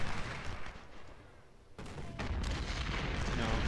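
Cannon and musket volleys from a First Bull Run battle in Ultimate General: Civil War, loud booming fire that fades briefly mid-clip and then swells again into sustained rumbling gunfire.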